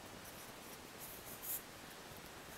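A pen or pencil writes the number 3465 on paper for a factor tree, a faint, steady scratching close by with a slightly firmer stroke near the end and no talk.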